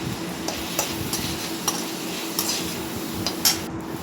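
Turmeric being stirred into a cooking pot, with a steady series of light scraping and clinking taps from a spoon against the pot over a soft constant background hiss.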